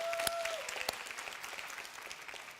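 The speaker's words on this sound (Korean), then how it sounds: "우리 박수로 다시 한번 격려합시다" A church youth group congregation claps to encourage its youth worship team, a soft, moderately distant patter of applause with a few sharper claps and a faint tone early on, fading gently over nearly three seconds.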